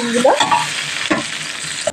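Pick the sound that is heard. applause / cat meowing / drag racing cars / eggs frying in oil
eggs frying in oil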